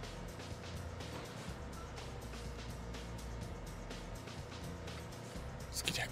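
Steady low rumble of city traffic and buses in the SimCity 4 city-building game, a continuous dense engine drone with passing vehicles throughout and a brief louder swell at the end.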